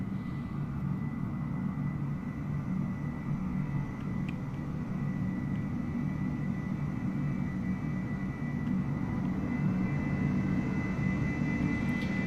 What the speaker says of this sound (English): Another flyover of this 737 model